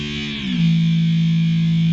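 A distorted electric guitar, pitched down with a Whammy pedal, holds a low sustained note that bends downward and settles, thick and loud, with no other sounds.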